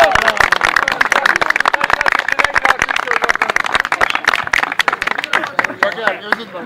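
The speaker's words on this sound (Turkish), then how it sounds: "Necmettin abi için bir alkış istiyor." Lively, close applause from an audience, sharp individual claps packed into a fast rhythm that eases off toward the end as voices start up underneath.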